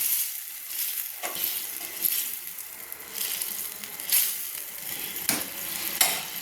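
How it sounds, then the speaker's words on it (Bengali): Egg and potol curry is stirred in a pan just after water is added. A soft simmering sizzle runs underneath several distinct scraping strokes of a spoon against the pan, spaced about a second apart. "প্রয়োজন মতো আমি জল ঢেলে দিচ্ছি। ঢেলে একটু নেড়ে দিচ্ছি।"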